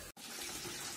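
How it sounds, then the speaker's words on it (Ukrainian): Water from a toilet that has been removed during a new toilet installation rushes steadily down the open drain, one short break early on and then constant close splashing and gurgling. "Отак зливається вода в туалеті."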